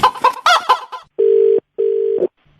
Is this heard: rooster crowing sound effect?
yes